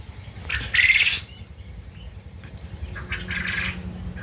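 Forty-five-day-old Japanese quail in a laying farm give short chirping calls, one clear burst followed by a fainter one, over a low background hum.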